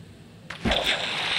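A Minecraft character plunging into water in the video game: quiet lead-in, then a sudden sharp splash followed by a sustained bubbling, sloshing wash that stays loud to the end.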